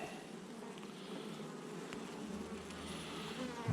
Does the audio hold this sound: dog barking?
no